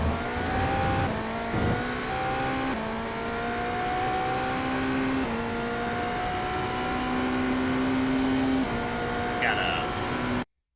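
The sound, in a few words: BMW GTP race car engine in video game iRacing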